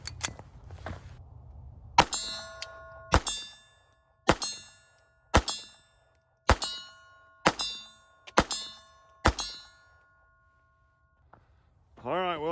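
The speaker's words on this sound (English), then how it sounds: "shoot one more mag with the Norma ammo" Walther PPK pistol in .32 ACP firing Norma ammunition, eight sharp, close shots at a steady pace about one second apart, each with a ringing metallic clang of the steel target, then a quiet pause and a voice.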